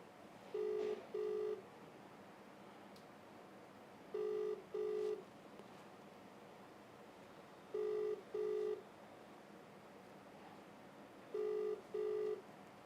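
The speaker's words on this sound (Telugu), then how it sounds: "వాట్సాప్ కాల్ కూడా చేస్తున్నా." An outgoing WhatsApp call rings out on a phone, with four evenly spaced pairs of ringback tones against quiet background hiss and no answer.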